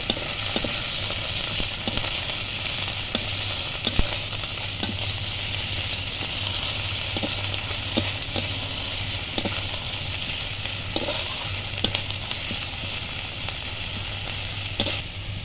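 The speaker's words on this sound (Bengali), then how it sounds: "কাঁচা লঙ্কা বাটা আদা রসুন বাটা জিরে বাটা দিয়ে ভালোভাবে কষিয়ে নেব" Green chilli paste, ginger-garlic paste and cumin paste frying in oil in a pan for a Bengali koi fish curry, a loud continuous sizzle with regular sharp stirring clicks throughout and no voices.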